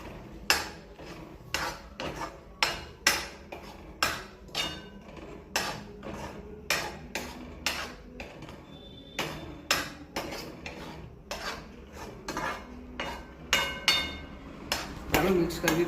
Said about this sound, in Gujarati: હવે આને મિક્સ કરી દઈએ.